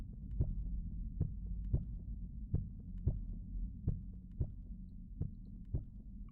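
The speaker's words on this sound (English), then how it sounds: "You hear nothing but your own heartbeat." In a tabletop fantasy role-playing session, a soft, low heartbeat thuds steadily in paired beats about twice a second, muffled and close, alone against a faint hum with no talking.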